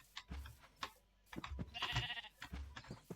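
Cows in the Minecraft video game giving a series of short, quiet lowing calls in quick succession, several separate bursts with brief gaps between them.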